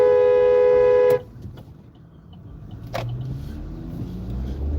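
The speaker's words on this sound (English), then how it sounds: "This little guy in this little junky Toyota is honking at me." A small, worn-out Toyota car blares its horn in traffic at the Gratiot to I-94 highway merge. One loud, near, sustained blast lasts about a second, then gives way to engine and road noise.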